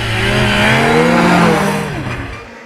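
A new Yamaha four-stroke snowmobile engine runs loud and close, revving with rising and falling tonal sweeps before cutting off abruptly at the end.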